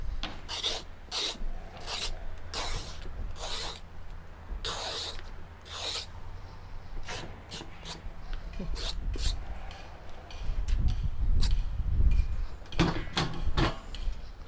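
Knife cutting through a squash, a steady series of rasping, scraping strokes, each short and repeated in an uneven rhythm, close up, with a low rumbling thud toward the end.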